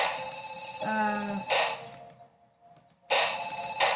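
A telephone rings from the reception desk inside a hotel video game, its electronic trilling bell repeating in two bursts with a quiet gap between them, alongside other game tones.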